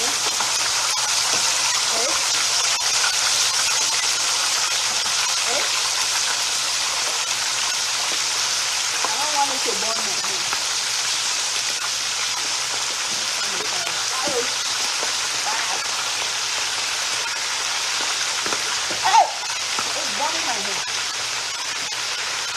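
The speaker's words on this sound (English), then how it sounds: "So now we're gonna fry it here. Fry your turkey." Boiled, seasoned fresh turkey frying in a pan gives a steady, loud sizzle and crackle that runs the whole way through, with a voice speaking faintly underneath.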